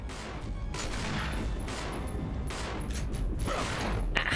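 Gunfire in the Resident Evil video game, a run of repeated shots and blasts spread across several seconds over a dense, rumbling game soundscape.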